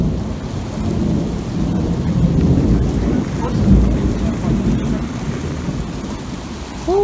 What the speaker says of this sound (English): We're pretty much right in the middle of the storm.